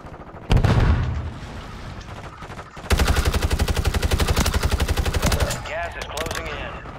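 Video game combat on a frontline: a grenade bursts with a heavy boom, then a long, loud stretch of rapid automatic gunfire rattles on for several seconds, with a voice briefly calling out over the shooting.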